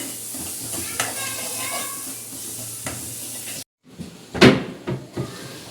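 Masala roasting in a pan, with a steady sizzle and scraping stirs, then a sudden cut to louder clunks and knocks of a spoon against the pan, close and without talking.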